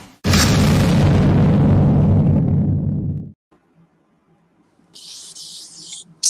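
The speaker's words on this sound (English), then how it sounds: "Explosions." Explosion sound effect: a sudden loud boom erupts and rumbles for about three seconds before cutting off, followed by faint quiet residue and a brief high hiss.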